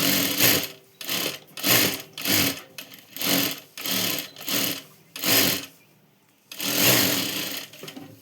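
Bursts of close, loud stitching come from a sewing machine working the facing of a katori blouse, roughly eight short runs separated by brief pauses and one longer final run.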